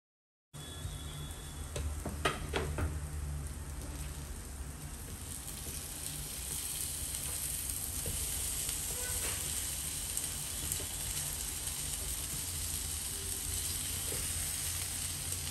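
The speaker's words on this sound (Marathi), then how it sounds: "सगळ्या फिशला मसाले लावून झालेत आणि आता मी फ्राय करून घेते." Masala-coated fish frying in a pan, a steady close sizzle that starts suddenly and carries on evenly, with a few light crackles and no talking.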